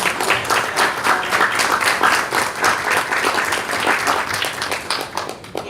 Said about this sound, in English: I'd like to offer a welcome and a round of applause